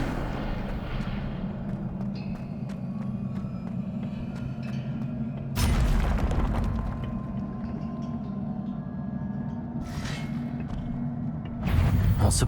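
In Hogwarts Legacy, an Incendio fire spell is cast over steady game ambience. A sudden whooshing burst flares up, and a second similar burst follows several seconds later.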